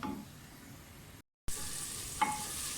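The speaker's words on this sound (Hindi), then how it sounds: "प्याज हमारे फ्राई होना शुरू हो गए हैं।" Chopped onions fry in oil inside a clay pot for an aloo palak sabzi, giving a steady, close sizzle that cuts out briefly and then returns louder, with a small scrape of stirring near the end.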